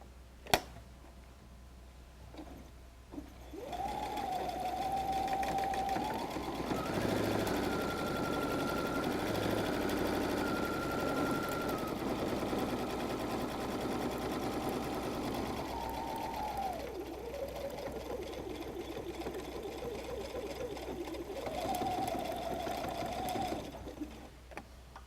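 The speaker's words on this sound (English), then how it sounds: "Now I'm going to sew down this second fold right here." A sewing machine stitches down a fold on a messenger bag, running steadily for about twenty seconds with a brief slowdown partway through, then stopping. Close and alone, with no talk.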